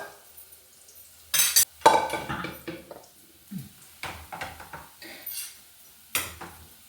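A spoon mashes cooked pumpkin and lentil curry in a metal pot, giving scattered clinks and scrapes with soft squishing between them, fairly quiet and close, with no voices.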